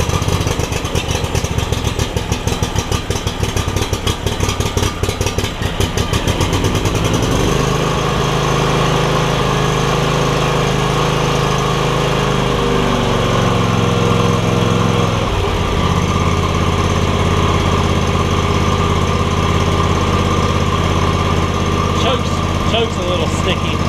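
A John Deere X300 lawn tractor with earlier no-spark and running trouble and a sticky choke cranks, then catches and settles into a steady, loud close-up engine drone that shifts pitch as it runs, with no talk over it.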